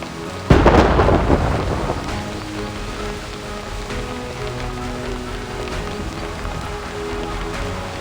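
Thunder crashes loudly in a Reverse: 1999 game scene, a sharp clap rolling into a long rumble over steady, hissing rain that continues throughout.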